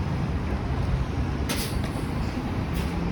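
A city bus passes on Danforth Avenue in Toronto amid a dense, steady roar of street traffic, with two brief bright hissing bursts rising above the rumble.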